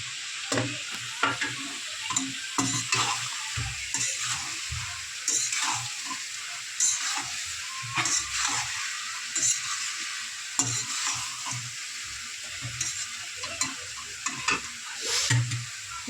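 Spices and chopped tomato sautéing in an oiled pan for a papaya fish curry, a continuous close sizzle broken by frequent spatula scrapes and stirring knocks, with no talking.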